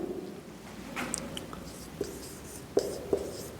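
A pen scratches across paper while someone writes by hand, giving faint, close strokes with occasional sharper taps in a quiet room.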